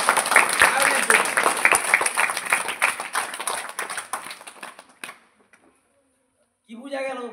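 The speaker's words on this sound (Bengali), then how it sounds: "জোরে হাততালি একবার। সায়নের জন্য।" A classroom gives a student named Sayan a quick burst of loud, dense clapping lasting several seconds, then it cuts off into near silence before a voice begins speaking.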